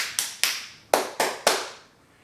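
A person claps five times at close range, two quick claps, a pause, then three more. Each one is a crisp slap that fades quickly in a quiet room.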